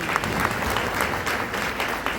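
Audience applause at a corporate awards speech, a brief dense patter of many hands clapping, fairly soft and continuous.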